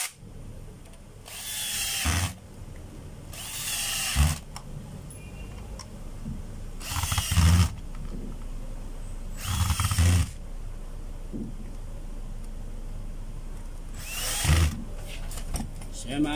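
A DeWalt D25032 rotary hammer runs in five short bursts of a loud, close whirring hammer-drill buzz separated by pauses, with a person talking between the bursts.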